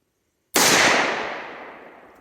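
A single sharp gunshot fired at a target cracks out loud and close after a moment of silence, its echo decaying over about two seconds.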